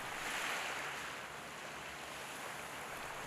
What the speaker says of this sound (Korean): 오롯이 파도 소리에 집중해보는 시간